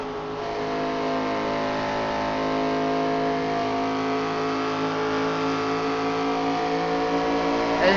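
ARCA race cars running in a pack at the Brickyard in a racing video game, several engines droning and revving together at high, steady pitch, loud and continuous with no talking.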